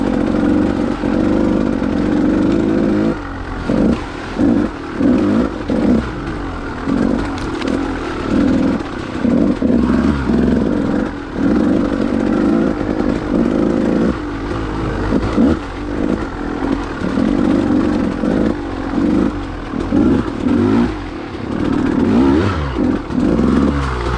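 A dirt bike engine putters along at a mild, steady pace on a trail ride, its low, continuous drone pulsing with small throttle changes and the occasional rattle, close and loud throughout with no talking.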